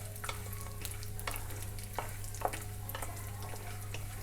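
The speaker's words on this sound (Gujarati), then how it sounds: "એને ઘીમાં શેકી લઈશું" Cashews, almonds and pistachios roast in ghee in a pan, giving a steady sizzle broken by scraping stirs of a spoon at irregular intervals over a low constant hum.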